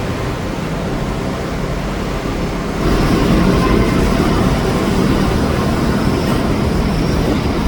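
A monorail train in Kuala Lumpur rumbles into motion, the steady rolling noise swelling partway through and continuing as a broad, even roar.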